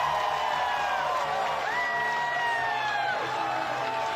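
A large crowd cheers and whoops after the Premier of South Australia's victory speech for a second term, with loud sustained cheering, rising whistles or shouts, and a dense roar throughout.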